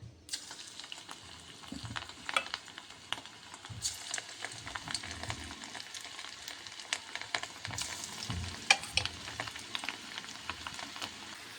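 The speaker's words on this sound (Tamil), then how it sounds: "இப்போ ஒரு கடாயில் எண்ணெயை விட்டு அதில் மிக்ஸ் பண்ணி வச்சுருக்க காலிஃப்ளவரை ஒன்று ஒன்றா போட்டு பொரித்து எடுத்துடலாம்" Cauliflower pakoda pieces deep-fry in oil in a kadai, a soft continuous bubbling sizzle with scattered crackles and occasional light clatter, close but fairly quiet, no talking.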